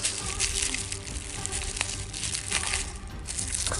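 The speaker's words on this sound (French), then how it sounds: "Bon le scotch est un peu chiant à une main." Sticky tape crinkles and tears against the cardboard of a parcel from Japan being unboxed one-handed, a steady close rustling and crackling with scattered sharp peel sounds throughout.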